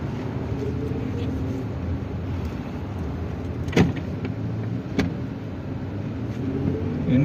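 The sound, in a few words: road traffic jam in Dubai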